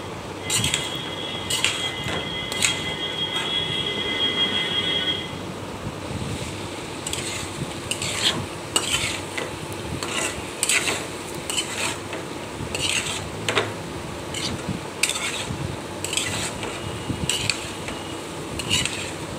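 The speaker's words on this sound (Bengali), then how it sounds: "ডাঁটাগুলো ভালোভাবে নেড়ে চেড়ে নিতে হবে" Vegetable stalks coated in spices are stirred and tossed in a pan, with irregular scraping and clattering strokes over a soft background hiss, close and fairly loud, no speech.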